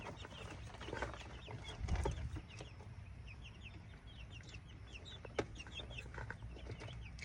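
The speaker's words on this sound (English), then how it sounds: "Got some Americana hens and a white leghorn to add to our flock." Ameraucana hens and a white Leghorn in a backyard coop cluck softly in short, scattered calls, fairly faint and close against a low rustling background with no talk.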